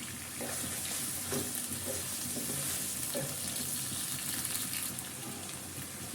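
Potatoes fry in a pan for a mixed vegetable dish, giving a steady close sizzle with a few soft stirring scrapes and no voices.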